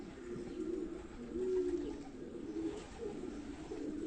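Pigeons coo nearby in a soft, continuous murmur of overlapping throaty calls, rising slightly in the middle.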